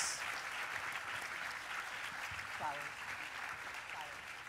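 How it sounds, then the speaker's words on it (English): Applause from a pageant audience for judges and contestants fills the room as continuous, moderately loud clapping, with faint voices underneath. "let's have a round of applause for all of our judges and contestants."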